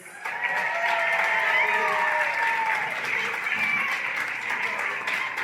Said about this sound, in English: Would you all please join me in giving a big round of applause for Miss Kitty Confesses.